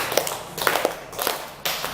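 Hands clap a handful of times, in an irregular rhythm, during an indoor training session. The claps are sharp, close and moderately loud, with brief quiet gaps between them.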